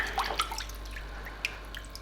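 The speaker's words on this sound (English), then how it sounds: "I like to give this pipe a rinse out, because if there's any build-up in here, I know I need to drastically reduce the feeding" Water runs and drips through a rinsed-out aquarium filter pipe, with scattered splashy drips and trickles close by over a low steady hum, no voices.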